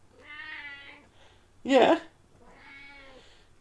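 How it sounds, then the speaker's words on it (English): Two drawn-out meows from a cat sit nearby, one on each side of a short, louder burst from a person. The cries are moderately quiet and clear. "Sometimes I really like it when she meows at me"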